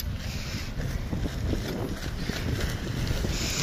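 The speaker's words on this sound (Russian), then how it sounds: "Очень ветрено." Strong wind buffeting the microphone beside a pond, a continuous loud rumbling roar with gusty fluctuations and no talking.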